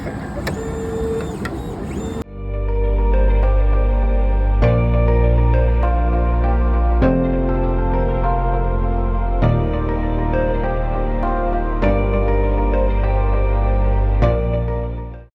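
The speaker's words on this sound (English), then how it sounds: "the spectrophotometer has spit out raw data reads that you can blank correct, average, and then plot into a standard curve" A spectrophotometer plate reader runs in a lab, giving a steady mechanical whir with regular tonal hum and a few distinct clunks as the plate shifts, loud and close with no speech.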